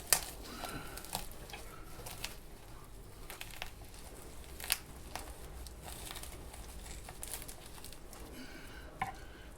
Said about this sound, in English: I'll struggle with scissors for now